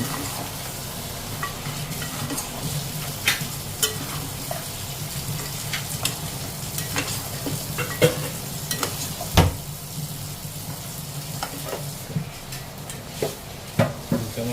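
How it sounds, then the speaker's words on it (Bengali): Mutton and potatoes cook in a pan with meat masala and are stirred steadily, giving a continuous sizzle under frequent metal scrapes and clinks across the whole stretch, with no speech. "এবার আমি এর মধ্যে দিয়ে দেবো মিট মশলা আবার ভালো করে নেড়ে দেবো"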